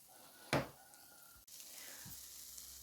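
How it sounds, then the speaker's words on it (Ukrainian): A sharp burst of sizzling as dough for meat-filled fried buns hits a hot pan, then a quieter, steady frying crackle with a faint scrape as it is spread out. "Тепер кладете на розогріту сковорідку так тісто, ви його розрівнюєте потрошечку"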